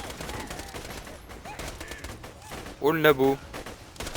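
A submachine gun fires a short rapid burst in Borderlands 2, a loud clipped rattle of several quick shots near the end, after a stretch of quieter game sounds and a brief spoken remark.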